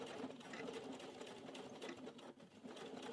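A sewing machine stitches steadily around a fabric bib at a stitch length of 4, its fast, even needle chatter continuing without a break.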